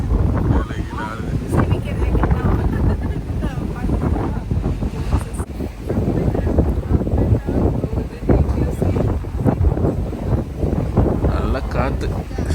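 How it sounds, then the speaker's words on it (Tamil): Strong wind buffeting the microphone on a boat cruise off Palma de Mallorca, Spain, a loud continuous rumbling roar with gusty surges, mixed with water and engine noise throughout. "நல்லா காற்று சுவிசுன்னு அடிக்குது இல்லை?"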